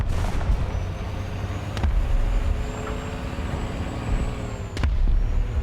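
Tank cannon shots in a video game, heard as a few sharp booming blasts over a constant low engine rumble, with no talk.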